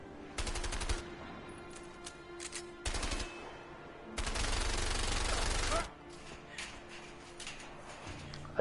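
Automatic gunfire in the game A Way Out, several rapid sustained bursts including a long volley, separated by short pauses, with occasional talk between.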